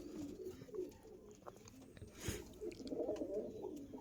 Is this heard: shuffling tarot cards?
no